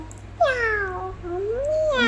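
A voice mimics a cat, drawing out a long wavering meow followed by the start of a second, close and clear.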